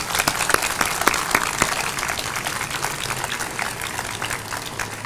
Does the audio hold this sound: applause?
yes